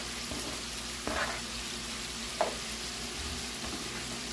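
Pork chops and chopped green tomatoes fry together in a pan, an even close sizzle under a low background hum, broken by a couple of brief stirring knocks, with no speech.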